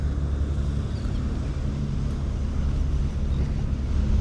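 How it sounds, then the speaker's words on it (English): A continuous deep rumble of boat diesel engines at Haulover Inlet, steady and fairly loud, with a broad wash of noise and no voices. "You can just hear the diesels roaring."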